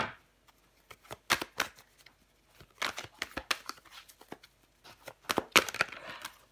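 Tarot cards being shuffled by hand in quick, soft riffling bursts with short pauses between them, close and quiet, with no talk.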